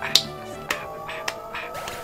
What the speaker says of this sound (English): Yo, you hear this clapping, bro?